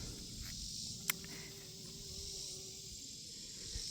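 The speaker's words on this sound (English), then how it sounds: "There are bees pollinating." A faint, steady buzz of bees pollinating flowers in a green bean and okra garden in mid-summer hums in the foreground, with a constant high whine of crickets and a brief click.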